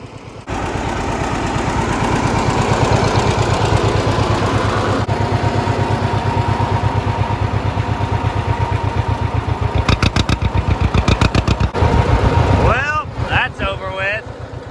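A loud tractor engine drones steadily up close with rhythmic mechanical thumping from the towed planter replanting beans, ending with some clattering.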